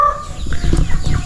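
Chickens cluck loudly and close in a short burst of overlapping farmyard calls, with a faint high note at the start.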